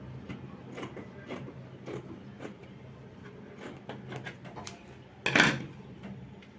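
Scissors cutting cotton shirt fabric for a men's vintage camp collar shirt, a series of crisp snips in an irregular rhythm, close up, ending with a louder clatter.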